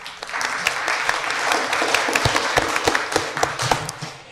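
Audience at a county candidate forum gives a full round of applause, dense steady clapping with sharper individual claps poking through, loud and continuous for several seconds.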